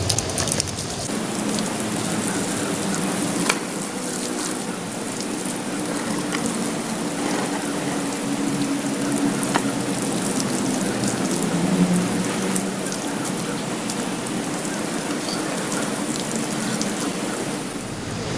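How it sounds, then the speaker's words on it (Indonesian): Water poured over the soil of a serut (Sageretia) twin-trunk bonsai pot after repotting, a steady rain-like patter and trickle that runs continuously and fairly close without any talk. "di bagian terakhir tentunya kita siram biar medianya agak sedikit memadat ya"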